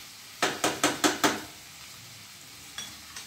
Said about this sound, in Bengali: এখানে পেঁয়াজ ক্যাপসিকাম আর আদা রসুনটা কিন্তু প্রায় 2 মিনিট মতো ভাজা হয়ে গেছে